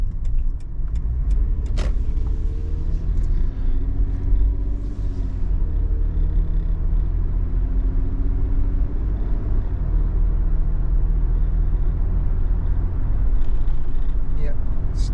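A 5th-generation Toyota 4Runner with a suspected transmission fault rumbles along and turns around, its engine and road noise loud and steady throughout while someone talks over it.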